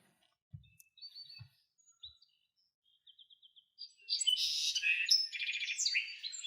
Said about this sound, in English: We'll probably just put in a sparrow sound right here.